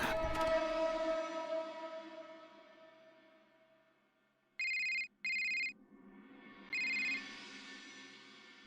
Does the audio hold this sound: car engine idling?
no